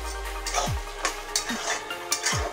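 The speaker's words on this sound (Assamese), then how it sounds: "মাজে মাজে মই কোমোৰাখিনি লৰাই দি আছোঁ" Pumpkin frying in a pan sizzles steadily while a utensil stirs it, with several distinct scraping sweeps across the pan at uneven intervals.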